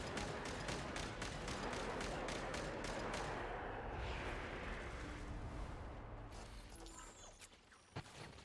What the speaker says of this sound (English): Oh, it's just a cannon.